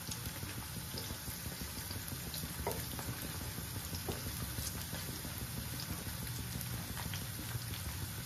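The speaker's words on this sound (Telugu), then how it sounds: "వేయించుతున్నాను." Bitter gourd frying in a pan sizzles in a steady, dense hiss with faint crackles, constant and close, with no talk.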